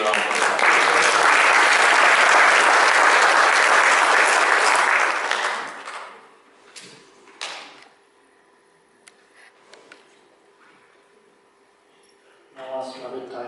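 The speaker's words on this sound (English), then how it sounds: "Let's give a round of applause." An audience at an inter-faith friendship group program in New Zealand applauds loudly for about six seconds, then the clapping fades into scattered claps and room noise before a voice begins.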